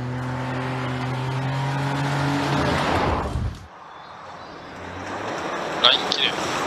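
Toyota Yaris rally car on a gravel special stage at the Shibukawa Ikaho rally, its engine note rising loud as it passes close, then cutting away, with a voice talking over it and faint sounds afterward.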